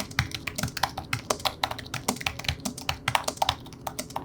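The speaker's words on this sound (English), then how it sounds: "With 1mm travel, these keys do feel softer and quieter." Rapid typing on the keyboard of a 2021 M1 iMac with soft, low-travel 1mm keys, a dense run of light clicky taps close up with no talk.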